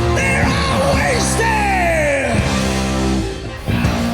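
A drawn-out rock scream, loud and sustained over dense rock music with drums and guitars, the voice sliding in pitch for several seconds.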